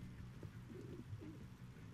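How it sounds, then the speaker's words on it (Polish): A pigeon cooing in the video game Grand Theft Auto 4, a few soft low coos, faint and brief, with no voices. "A, latający szczur, czyli gołąb."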